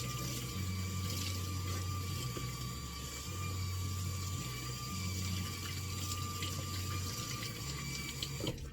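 Steady running water splashing continuously as a doll's hair is rinsed, with a low pump-like hum pulsing underneath.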